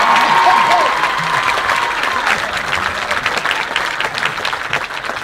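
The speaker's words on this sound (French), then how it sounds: "je vous demande d'applaudir très très fort Benoît Poulvorde" Audience at a film premiere screening in Narbonne applauding actor Benoît Poelvoorde: loud, dense clapping from a large crowd, strongest at the start and tapering slightly over several seconds, with a voice briefly audible near the start.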